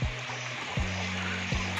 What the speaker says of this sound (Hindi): यहाँ पे एक छोटा सा वाटरफॉल भी है।